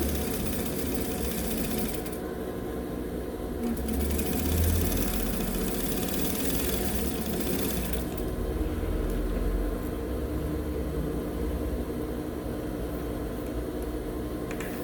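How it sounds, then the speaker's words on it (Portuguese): Sewing machine stitching a seam with backstitching at the start and end, a continuous close mechanical whir that changes pitch slightly as the stitching pauses and resumes. "Pezinho de máquina, retrocesso no início e no final da costura."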